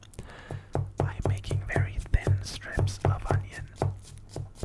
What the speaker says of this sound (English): So I am making these very thin strips of onion.